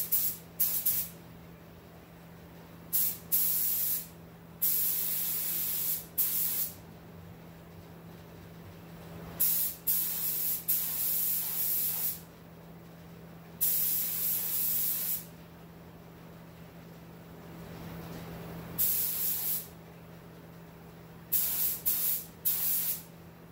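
A Harbor Freight spray gun lays down clear coat paint in repeated hissing bursts of one to two seconds, with quiet gaps between passes, close and loud over a steady low hum.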